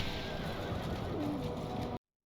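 Horses neigh amid a battle of horse archers and Harad cavalry in the Third Age: Total War strategy game, a short whinny rising over a dense, steady din of combat noise.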